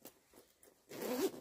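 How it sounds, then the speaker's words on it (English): A zipper on a sewn bag lining is pulled fully open in one quick, close rasp that follows a brief quiet stretch. "So just open your zip fully"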